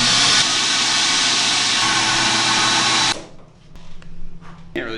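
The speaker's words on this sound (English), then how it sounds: "What we're doing is blasting sand at the lens." Sandblasting a 10th-generation Honda Civic headlight lens in a blast booth, a loud steady hiss of blasting sand for about three seconds that cuts off abruptly, leaving faint clicks and rustling handling noises.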